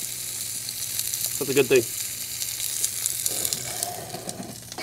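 A tomahawk steak searing in an oily, dark carbon steel pan gives a steady, close sizzle with bursts of crackle and spatter, while someone speaks briefly over it.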